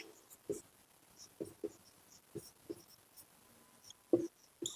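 A pen or marker writing numbers during a maths lesson on rational numbers, giving soft, close, intermittent scratches and taps in short strokes over quiet room tone.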